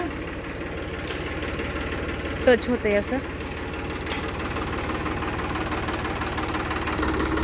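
A tractor engine idles with a low, steady rumble throughout, with a brief spoken remark partway through.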